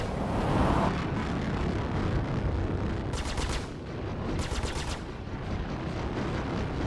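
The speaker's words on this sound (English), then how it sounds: "we got somebody shooting at us" Enemy ships in the Star Citizen space combat game open fire, a dense, steady roar of rapid weapon fire and engine rumble with two bursts of sharper stuttering shots, loud and continuous throughout.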